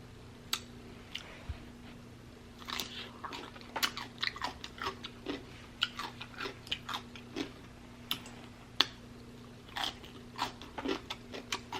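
Close crunchy bites and wet chewing of cucumbers dressed with olive oil, eaten alongside eggs and jasmine rice, with repeated crisp snaps spaced irregularly over a quiet background and no talking.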